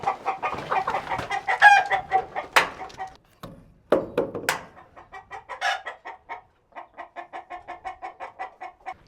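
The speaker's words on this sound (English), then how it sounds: "so that makes 21 chickens, 20 layers" Backyard laying hens cluck in quick rhythmic bursts close by, with a few louder squawks and brief gaps between calls, and no talking heard.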